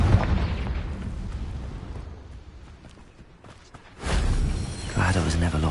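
A Confringo fire spell explodes in Hogwarts Legacy on PS5: a loud, broad blast bursts in partway through, after quieter game ambience and footsteps, with a dense roar trailing after it.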